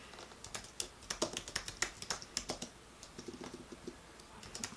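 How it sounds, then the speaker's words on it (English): Quick bursts of typing on a computer keyboard, sharp key clicks in uneven clusters with short pauses, close and quiet, no voices. "My typing is jacked today."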